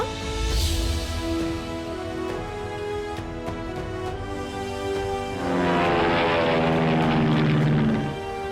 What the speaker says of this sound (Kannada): ನೋಡಿ ಫ್ಲೈಯಿಂಗ್ ಮೆಷಿನ್.